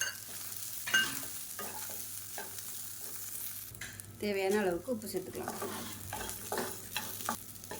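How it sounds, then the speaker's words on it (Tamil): Curry leaves and grated coconut sautéing and being stirred in a pan for peanut chutney, a steady soft sizzle with scraping stirs throughout while someone talks over it. "நல்லா வதக்கியாச்சு"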